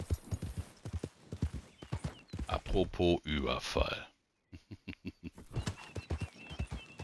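Horse hooves clip-clop in the Red Dead Redemption 2 video game, a rhythmic series of clear thuds that pauses briefly before resuming, with someone talking over the hoofbeats.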